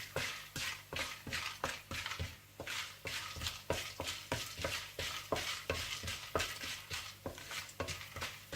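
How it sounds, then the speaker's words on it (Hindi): Kamarkas fries in ghee in a pan while a spoon stirs it in a quick regular rhythm of scrapes, about two per second, over a soft continuous sizzle; close and fairly quiet, with no talking. "इसी घी में आप कमरकस भी इसी तरह से फ्राई कर लीजिएगा"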